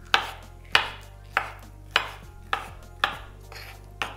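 A knife chops avocado into cubes on a cutting board, seven or eight crisp, evenly spaced knocks about half a second apart, close and clear, with no voices.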